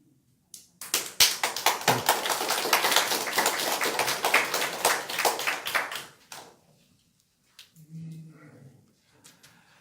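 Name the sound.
audience applause during a lecture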